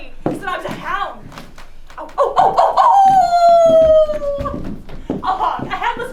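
On stage during a performance of A Midsummer Night's Dream, an actor voices animal cries in imitation of a howling hound, with a long wavering howl in the middle, framed by other barks and vocal noises and by spoken lines.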